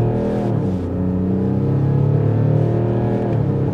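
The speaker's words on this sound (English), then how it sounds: "give it full throttle here from like 30 kilometers per hour. Let's go full throttle." A 2025 luxury coupé SUV, BMW X6 or Mercedes GLE Coupé, accelerating at full throttle from about 30 km/h, with a loud, steady engine roar that climbs in pitch, heard from inside the cabin.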